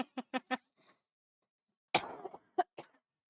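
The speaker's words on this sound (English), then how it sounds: "I'm already coughing my lungs out." A streamer coughs in a quick run of four sharp, close coughs, then pauses before a harsh throat-clearing followed by two more short coughs.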